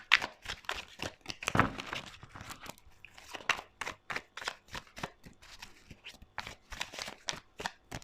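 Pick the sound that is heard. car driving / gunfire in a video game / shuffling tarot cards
shuffling tarot cards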